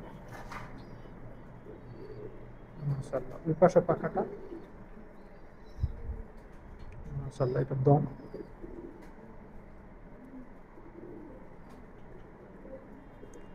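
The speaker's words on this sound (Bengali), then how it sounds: "খুব সুন্দর একটা কবুতর।" A male high flyer pigeon coos in a few soft, low bursts at close range, partly under a man's speech.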